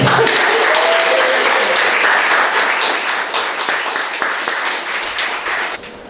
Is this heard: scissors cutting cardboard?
no